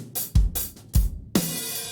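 Drum hits processed through a heavy H compressor preset at full wet mix, three punchy, booming strikes spaced apart with long, washy room tails and crashing cymbal wash, loud and alone.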